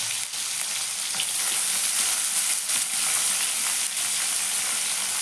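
Onion and curry leaves fry in hot oil, giving a steady, close sizzle with crackling pops and occasional stirring throughout.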